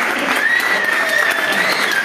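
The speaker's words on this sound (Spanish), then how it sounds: "Un fuerte aplauso a Luisa." Audience applauds steadily at a homebrewing competition awards ceremony, a dense, continuous clapping that fills the whole moment without a break.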